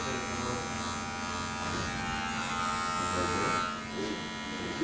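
An electric trimmer buzzes steadily as it cuts beard hair, softening a neckline during a haircut and beard cleanup; the motor drone is close and continuous.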